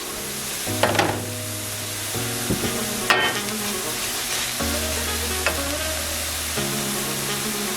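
Curry leaves and spices frying in a pan for beef cutlets give a steady, close sizzle with occasional stirring scrapes, over a low sustained tonal hum.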